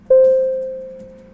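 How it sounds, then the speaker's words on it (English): A single clean electronic chime from a train's signal alert system in a London Tube simulator game, one sharp tonal onset that rings and slowly fades over about a second. "The signal alert system sounds like this."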